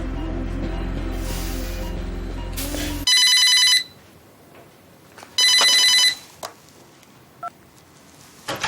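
A telephone rings in an office setting: a musical electronic ringtone plays first, then two loud bursts of bright trilling bell ring, separated by a quieter gap with faint background noise.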